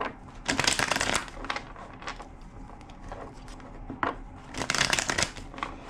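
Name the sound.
shuffling cards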